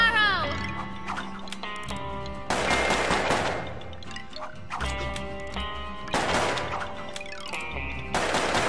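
Twin-revolver gunfire from a gunslinger in the video game Puppeteer, heard as loud repeated shot bursts among bright musical stabs and game effects.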